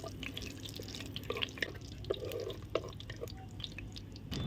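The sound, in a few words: cumin seeds frying in hot oil in a kadai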